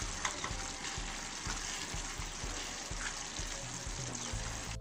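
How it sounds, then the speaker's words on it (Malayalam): Fried chicken masala curry stirred in a hot pan makes a continuous close sizzle, broken by regular scraping strokes of the spoon, with no talking. "ഇത് നന്നായിട്ട് തന്നെ ഒന്ന് ഇളക്കി കൊടുക്കുക."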